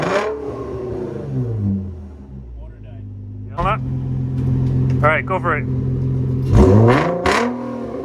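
A Nissan 350Z engine with Motordyne Art Pipes, a Megan Y-pipe and a muffler delete idles with a low rumble, then revs up in a loud, rising burst near the end while people talk over it.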